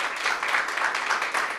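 Applause for a singer on a Cantiamo Napoli show, a short, steady round of clapping from the audience, fairly close and even.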